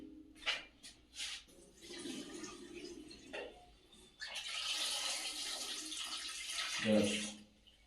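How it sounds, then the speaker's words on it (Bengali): Hot water is poured off boiled potatoes in a home kitchen, giving a steady rushing splash for a few seconds after some brief knocks and clatter, with a louder clunk near the end. "আলুর জলটা কি, গরম জলটা ফেলে দিই।"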